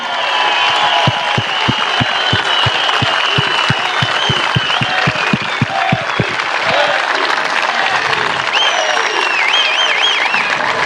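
A large crowd at a Socialist Party rally in Elbasan gives sustained applause in tribute to Qazim Sejdini, dense clapping with sharp individual claps standing out early, loud and continuous throughout.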